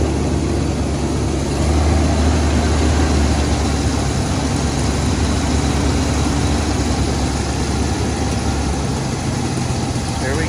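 A 1966 Oldsmobile Toronado barn find idling high, a steady low engine rumble with a continuous loud drone throughout and no pauses.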